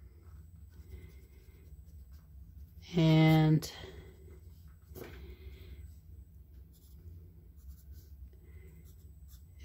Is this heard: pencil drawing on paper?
yes